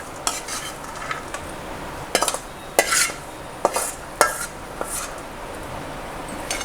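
Rava kesari with cashews is stirred in a pan: a faint sizzle runs under a series of sharp spoon scrapes and metallic clinks that come every second or so, close up.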